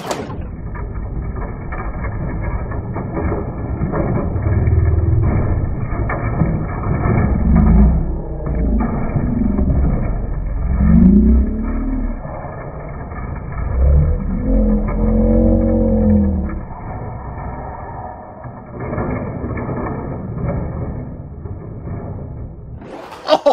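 Toy off-road vehicles racing against a toy A-Team van, a continuous close whirring motor hum that rises and falls steadily throughout.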